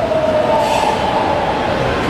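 A São Paulo metro train rumbles steadily, with a faint high squeal from the wheels running through the continuous roar.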